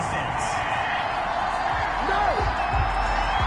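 A stadium crowd at a Saints–Eagles NFL game roars in disapproval after a flag on third down, a dense sustained swell of booing and shouting under a commentator's voice.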